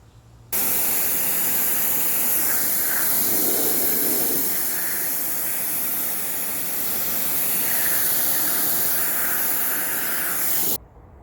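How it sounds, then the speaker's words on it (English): A pressure washer sprays a row of lined-up bricks, a loud, steady, close hiss of high-pressure water that starts abruptly, runs for about ten seconds with slight swells in intensity, then cuts off sharply. "I'm gonna give it a quick power wash"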